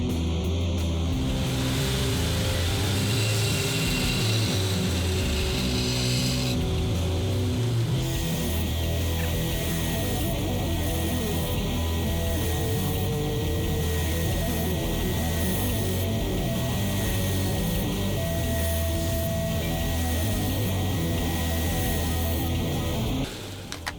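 Steady loud grinding on a 1 horsepower grinder while shaping a knife blade with swooping plunge lines and a false edge, a dense continuous whir with a faint tonal whine running unbroken throughout.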